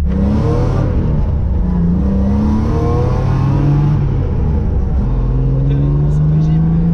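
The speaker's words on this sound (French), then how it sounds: "Elle prend des tours, elle prend du régime." A BMW 325 engine revs hard and climbs through the rev range on the Top Gear drift circuit, loud and close, with voices talking over the roar.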